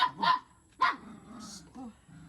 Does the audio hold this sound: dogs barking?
yes